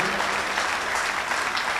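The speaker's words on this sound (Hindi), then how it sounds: "एक बार ताली बजा पूरे एंजॉयमेंट में" Audience applause at a Hindi comic poetry show featuring a humorous poet. Dense, continuous clapping from a sizable crowd runs loud and even throughout, with no pauses and no talk over it.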